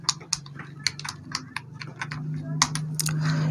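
Keys clatter on a computer keyboard as a captcha code is typed into an online form, with quick irregular taps that stand out clearly over a faint background hum.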